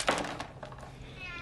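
A house cat meows once near the start, clear and close, followed by softer rustling and a faint tonal sound toward the end, with a voice briefly present underneath.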